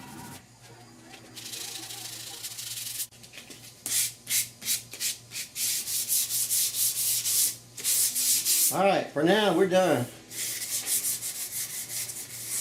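Block sanding of primer/surfacer on the rusty roof of a 1969 Chevrolet C10 truck, rhythmic rasping strokes in bursts, close and fairly loud, with a brief spoken remark near the end.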